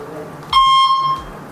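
An electric bike with an anti-tip alarm feature lets out a single loud, steady electronic beep lasting about half a second as it is switched on, with people talking nearby.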